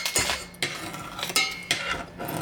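A spoon scrapes and knocks around a bowl while homemade Play-Doh ingredients are mixed with salt, giving several rough, irregular scraping strokes with light clinks, close and fairly loud, with no voices.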